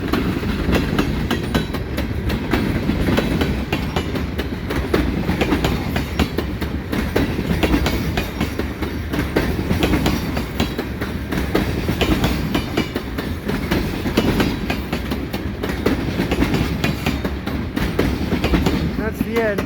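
A long CN freight train of tanker cars rolls steadily past in winter at St Ambroise Street, a continuous loud rumble with rhythmic clickety-clack of wheels over rail joints and no break in the sound.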